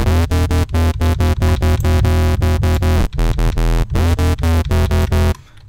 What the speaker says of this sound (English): we are starting to get a lot fuller of a square sound by intercepting these frequencies